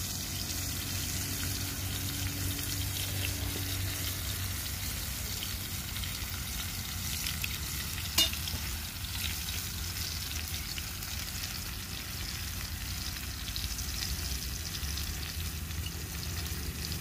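Tomatoes fry in a pan for sandwiches at an outdoor woodland cookout, giving a steady, close hissing sizzle throughout with one brief sharp click near the middle.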